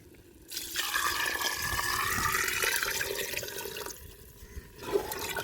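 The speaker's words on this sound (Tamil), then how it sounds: "தேவையான தண்ணி ஊற்றிக்கலாம்" Water gushes steadily into a cooking pot with rice and salt for a village-style Dindigul mushroom biryani, splashing and burbling for several seconds, then easing near the end.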